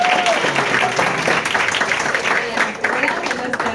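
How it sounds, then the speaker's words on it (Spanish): Lively audience applause at a university panel discussion, close and loud, with dense clapping holding strong throughout and a few voices mixed in underneath. "Fuerte el aplauso."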